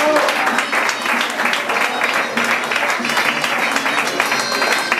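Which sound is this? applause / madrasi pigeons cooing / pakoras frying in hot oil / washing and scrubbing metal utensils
applause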